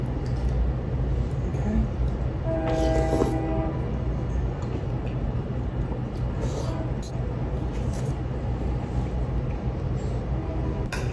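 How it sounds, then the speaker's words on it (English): A commuter rail train passes nearby, with a continuous rumble of cars and a brief horn blast early on that holds steady for several seconds, all under steady background noise. "the commuter rail's like passing through"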